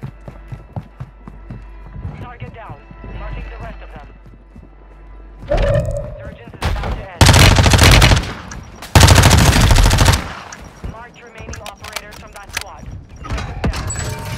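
Sniper and automatic gunfire in a battle royale shooter match, loud sustained bursts of shots in two long volleys with scattered fainter pops, while players talk over the action.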